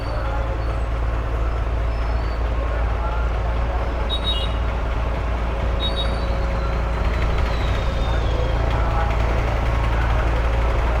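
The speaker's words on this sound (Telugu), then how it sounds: "రైజ్ చేశాడు ఇంజన్." A ferry boat's engine drones loud and steady on the Vasista Godavari river near Narasapuram, a heavy low rumble that barely changes, with faint chatter and squeaks above it.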